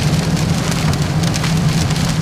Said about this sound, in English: I think actually the rain is going to work to our advantage today.